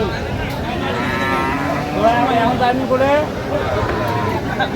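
A cow moos repeatedly, long drawn-out lowing calls over steady background chatter and crowd noise at a livestock market.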